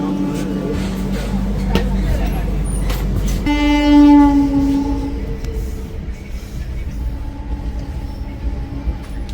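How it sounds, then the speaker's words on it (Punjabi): A loud, sustained horn from train 11058 to CSMT blares close by at Ludhiana Junction over rumbling rail noise, then fades as the train rolls away with clattering wheels and faint voices. "ਇਹ ਖੜੀ ਆਪਣੀ ਸੀਐਸਐਮਟੀ 11058 ਹਾਰਨ ਹੋ ਗਿਆ ਆਪਣਾ ਚੱਲਦੇ ਆ"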